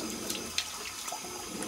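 Cold tap water runs steadily into a sink while a face is rinsed, a soft continuous splashing close by with a few brief louder splashes and no talking.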